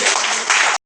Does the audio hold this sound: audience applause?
yes